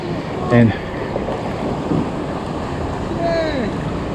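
Ocean surf washes and rumbles steadily near the coast during a sea kayak trip off Aruba, mixed with wind buffeting the microphone, with a few short bursts standing out briefly.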